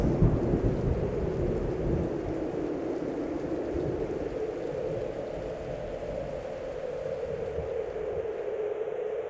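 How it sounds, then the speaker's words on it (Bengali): Thunderstorm sound effect for a Bengal village ghost story: steady heavy rain with deep rolling thunder rumbling throughout, loud and continuous with no voices. "চারিদিকে ঘন মেঘ ছেয়ে গেছে ঝড় উঠেছে"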